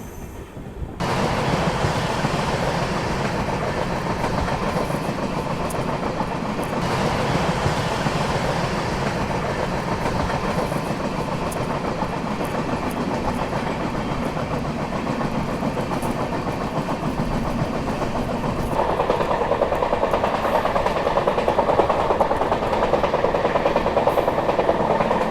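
A special passenger train rolls along steadily, its rail cars giving a continuous clickety-clack and rumble heard from onboard, loud and unbroken for the whole stretch, with no talking.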